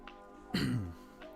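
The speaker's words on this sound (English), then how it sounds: "Excuse me for coughing." A single short, harsh cough bursts out close by against quiet room tone, followed by silence.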